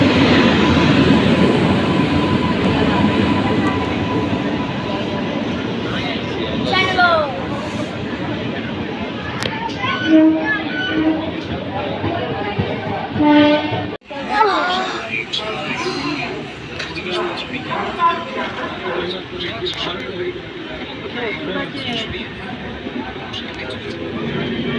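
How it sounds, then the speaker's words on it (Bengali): The Howrah Jaynagar Express rolls into a station with a loud rumble and squealing, clattering rail noise, while people talk nearby throughout. "আমাদের ট্রেন এসে গেছে"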